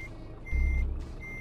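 In Euro Truck Simulator, a truck backs up with steady, evenly spaced reversing beeps over a low engine rumble that swells briefly in the middle.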